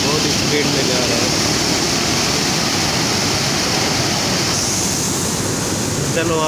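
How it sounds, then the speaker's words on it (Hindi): Fast-flowing river water rushing beneath the Taunsa Barrage bridge near D.G. Khan, a loud, steady broadband roar with wind buffeting the microphone, continuous and close. "पुल के नीचे पानी बह रहा है,"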